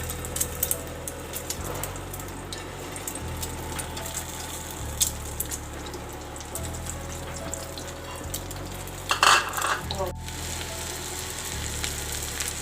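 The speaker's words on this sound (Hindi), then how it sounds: "उसको करते हैं फ्राई।" Shami kebabs dipped in beaten egg fry in hot oil, a steady soft sizzle running throughout with faint hum below and a few brief clinks of handling near the end.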